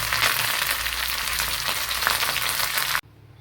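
Curry leaves and dried red chillies sizzle in hot oil with popped mustard seeds, tempering for a Kerala tuna fish curry, a loud steady frying hiss that cuts off abruptly near the end.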